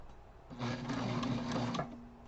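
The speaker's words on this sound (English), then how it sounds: "get this going here, back stitch a little" A blue sewing machine runs steadily in a short, loud burst of back stitching on a backpack project, with a sustained motor whir and rapid needle chatter before it stops.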